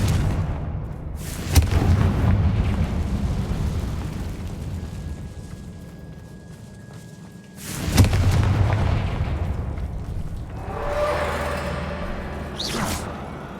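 Blasting curse explosions from Hogwarts Legacy burst out in two big booming hits a few seconds apart, each followed by a rumbling tail, with a sharper crackling burst near the end.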